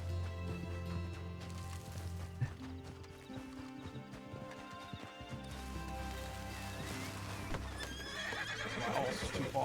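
Horse whinnying with clip-clopping hooves in Red Dead Redemption 2 on the WildRP roleplay server, set against dense game music and ambience, with hoofbeats trotting through and a louder neigh near the end.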